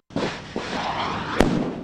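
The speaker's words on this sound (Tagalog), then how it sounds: "Samut-saring kanyon din ang pinaputok." Cannons fire in a military counter-landing live fire exercise between the Philippines and the United States, a dense loud stretch of booming blasts with a sharp crack near the end.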